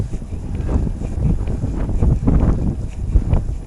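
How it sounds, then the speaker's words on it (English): Strong February wind buffets the microphone on an e-bike ride through the Lincolnshire Wolds, a steady low roaring rumble with gusty surges throughout and no voices. "it's blooming windy, to be honest, and not that warm"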